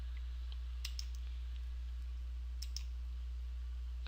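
Computer mouse clicking a save button, a few faint sharp clicks in quick pairs over a steady low electrical hum in a quiet room.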